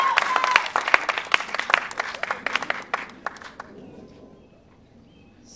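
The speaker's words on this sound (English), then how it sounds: "So let's clap it up for Pablo." Audience applause for a performer at a live show, a dense burst of many hands clapping with some crowd noise that thins out and fades to quiet near the end.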